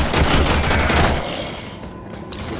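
Rapid automatic gunfire from the video game Warframe, a loud continuous fusillade of shots that rattles on for the whole moment, slightly easing toward the end with no talking over it.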